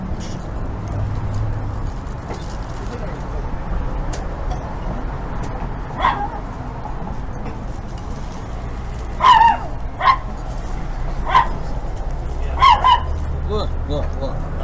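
Winston the dog lets out several short barks and yips at intervals, moderately close, over a steady background hum with occasional faint sounds in between.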